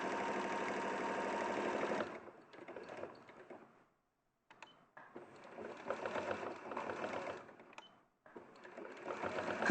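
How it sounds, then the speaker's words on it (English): A domestic sewing machine runs in bursts of fast rhythmic stitching with short pauses between runs, close and fairly quiet, with no one talking. "We'll stay with Joe sewing."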